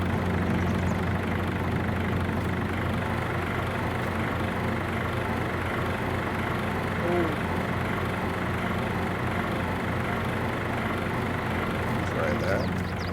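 Tractor engine idling in Farming Simulator 22, a steady low rumbling drone that runs unbroken and fairly close, with someone talking over it.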